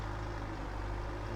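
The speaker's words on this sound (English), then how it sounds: "Back in the planting tractor." Tractor engine in Farming Simulator, a steady low idling rumble that holds evenly throughout, close and moderately loud with no talking over it.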